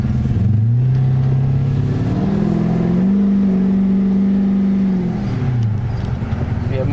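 A 1999 Holden R8 Clubsport engine with a new cam revs up and holds, a loud, close, deep engine note climbing, sustaining, then dropping back, with a voice briefly audible beneath it.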